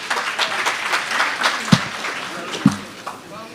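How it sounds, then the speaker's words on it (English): Applause from the audience at a primary school summit, steady clapping with a couple of sharper claps, heard under people talking. "Now let's give them a round of applause."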